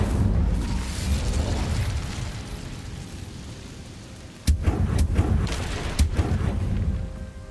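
A fire spell cast in Hogwarts Legacy, a rushing burst of flame over a low rumbling bed, followed by several sharp crackling pops and booms close up.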